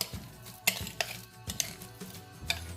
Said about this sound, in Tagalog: Haluin natin na mabuti.